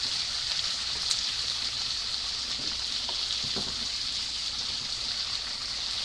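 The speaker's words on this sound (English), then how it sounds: "This is actually my favorite part, washing the shrimps" Water runs steadily while shrimps are washed, a constant close hiss with faint splashes and clinks, and no talking.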